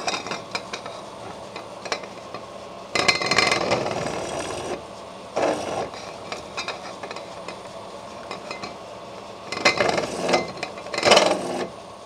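A countersink bit cuts into stainless steel on a DIY gas turbine flame tube, giving several short bursts of harsh grinding and scraping, close and fairly loud, separated by quieter pauses.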